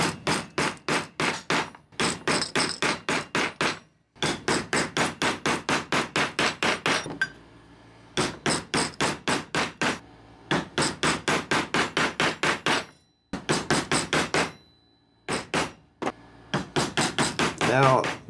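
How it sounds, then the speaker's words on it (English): Rapid bursts of sharp hammer strikes setting rivets into a leather kukri sheath repeat in quick volleys separated by short pauses, loud and close. "Now it's time to just hammer those in."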